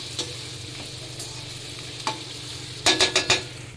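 Sliced onions frying in hot oil for dhaba-style jeera rice, a steady sizzle broken by a few sharp stirring scrapes and clacks of a spoon against the pan near the end.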